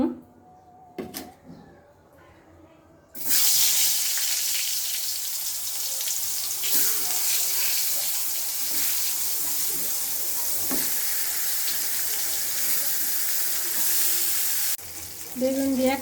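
Eggplant slices sizzle in hot oil in a wok, a steady bright frying hiss that starts abruptly after a few quieter seconds of handling, with occasional stirring scrapes and a soft voice speaking briefly.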